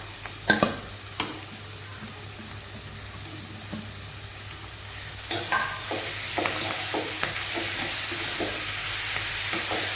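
Grated beetroot stirred and fried in a pan for beetroot rice, giving a steady close sizzle with scraping spoon strokes and a few sharp clinks of utensil against the pan throughout, with no talking.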